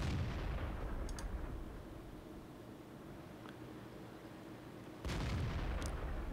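Tank cannon fire in World of Tanks from a Comet Tier 7 medium tank battle: loud booming shots open and close the stretch, with sharp cracks and a steady rumbling battle bed between them, no talk.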